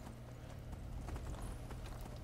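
A horse's hooves clip-clop steadily in the video game Skyrim, a continuous trotting rhythm heard close and fairly soft, with no talking.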